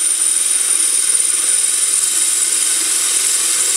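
A wood lathe spinning steadily as a homemade straight-edged scraper cuts long wood ribbons off the turning piece, giving a continuous close hiss that stays even throughout.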